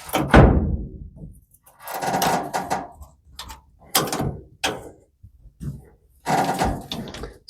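The body of a 1935 Ford coupe under interior restoration creaks and thunks as it is worked. Irregular woody groans and knocks come in separate bursts, close and fairly loud, with no speech.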